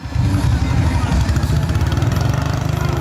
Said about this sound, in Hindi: देखिए कैसे शख्स बाइक को स्केट करके दिखा रहा है